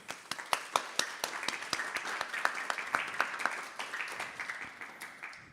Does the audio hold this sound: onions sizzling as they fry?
no